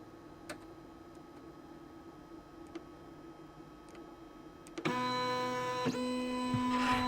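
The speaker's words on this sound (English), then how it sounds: "Definitely a noisy printer." Faint ticking over a quiet hum gives way to a loud mechanical whir as the motors of a Labists ET4 3D printer kick in, steady and close with shifting whining tones.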